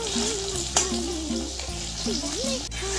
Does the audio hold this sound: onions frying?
yes